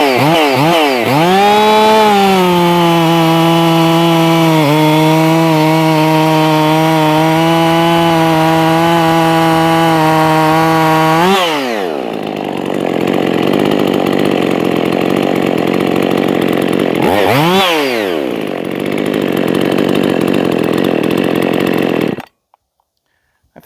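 A rebuilt Husqvarna 55 chainsaw fitted with a Chinese cylinder kit screams at high revs, holding a steady loud whine for several seconds before dropping off, then blipping up and down again in two more sharp rev bursts.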